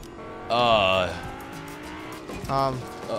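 A car in the Fortnite video game revving and squealing its tires, two loud tonal bursts close by with a quieter stretch between, voices chatting at a low level underneath.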